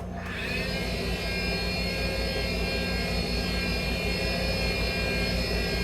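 A clothes dryer runs inside a 2018 Tiffin Allegro Bus 45OPP Class A motorhome, starting up into a continuous loud whirring roar with a steady rumbling hum that holds unchanged throughout.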